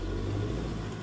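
A diesel car engine pulls away on a ramp using half clutch, a brief close, steady low hum that strains slightly.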